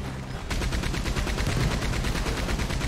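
Rapid gunfire in Red Dead Online, a fast run of sharp repeated shots starting after a short lull and continuing steadily, loud and close.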